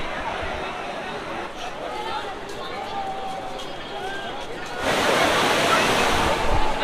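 A strong river current rushes past Ram ki Paidi ghat in Ayodhya in the evening while people bathe, a steady loud watery roar that swells louder near the end, with crowd voices faint in the background.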